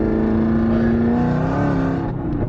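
A 1000-horsepower Camaro ZL1 pulls hard in third gear, its exhaust note climbing steadily, close and continuous before a brief dip at the end.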